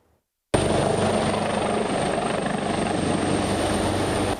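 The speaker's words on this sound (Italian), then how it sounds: "in volo 3 elicotteri e un Canadair" Firefighting helicopters fly over a wildfire in strong wind, their rotor noise bursting in loud and close after a brief silence, then holding as a steady, dense thrum.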